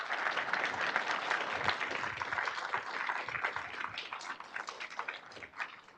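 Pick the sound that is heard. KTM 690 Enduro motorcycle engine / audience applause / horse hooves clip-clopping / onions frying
audience applause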